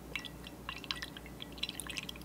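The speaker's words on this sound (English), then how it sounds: "sloshing around, I guess you'd call it" Whisky swirled in a Norlan glass, soft liquid sloshing with small bright droplet and splash ticks scattered through the swirl, faint and close, with no speech.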